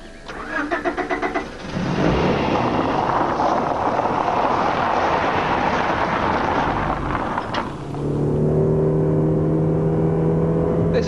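A 1991 Honda Civic VTI driving on the road, a loud continuous engine drone with heavy road and wind rush, easing briefly around a gear change before pulling again as engine tones climb, heard from inside the car.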